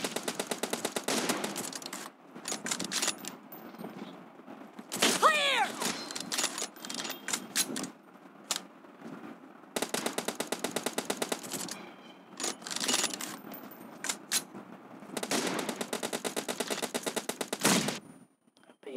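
Rapid automatic gunfire in PUBG Mobile, including an M249 and an M4, comes in several sustained bursts of dense, rattling shots with short pauses between them, loud and up front, while players talk intermittently.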